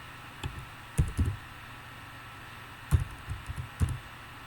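Keys clack on a computer keyboard in short bursts of a few quick strokes, with pauses between them, close and moderately loud.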